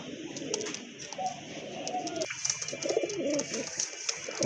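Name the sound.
pigeons cooing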